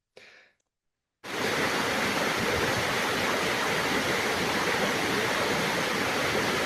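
Water rushing through a mountain gorge makes a loud, continuous broadband roar. It cuts in abruptly after a second of near-silence that opens with a faint brief sound, then holds steady without any voices.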